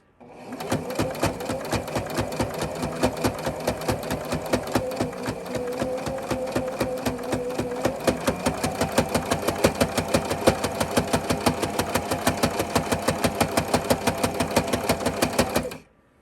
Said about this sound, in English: So go ahead and do your top stitch all the way around.